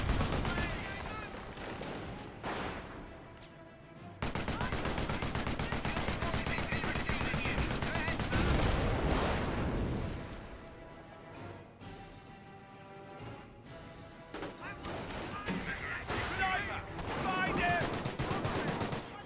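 Sniper shots and gunfire in the real-time strategy game Company of Heroes, dense bursts of rifle and machine-gun fire crackling almost continuously with booming impacts, loud and busy throughout, with voices mixed in now and then.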